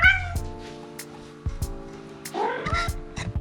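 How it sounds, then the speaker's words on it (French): A pet cat makes odd, pigeon-like cooing and chirping calls, several short bursts close to the microphone, heard alone without talk. "Mon chat roucoule, c'était je pense un pigeon avant."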